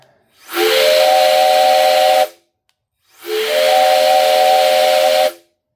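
A 3D-printed train whistle blown by a Wolf Up Box mini blower gives two long, loud chord blasts with a breathy hiss, separated by a short silence.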